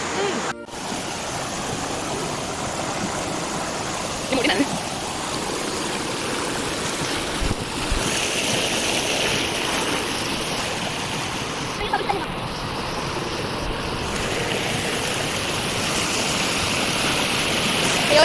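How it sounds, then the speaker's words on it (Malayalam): A small stream near a hometown house in Madamon, Pathanamthitta, flows and splashes in a steady broadband rush that stays loud and continuous throughout, with faint voices and occasional knocks under the water noise. "അപ്പം ഇതാണ് നമ്മൾ പറഞ്ഞ തോട്."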